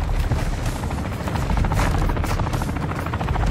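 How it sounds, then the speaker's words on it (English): A helicopter in the Warzone MW3 video game hovers close and fires at the player, a loud continuous rotor thrum mixed with rapid gunfire bursts and no talking. "Getting shot at from the helicopter"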